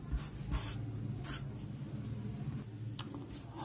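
Pen or marker scratching out a word on a board or paper during a Hindi geometry lesson on triangles, with several short strokes in an uneven rhythm at close range and no talking.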